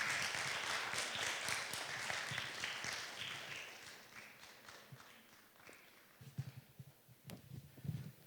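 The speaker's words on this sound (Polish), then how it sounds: "Wielkie brawa, proszę Państwa." An audience at the opening of a children's and youth song festival concert applauds, a broad, fairly distant crowd clapping that gradually thins and fades out, leaving scattered faint taps and light movement.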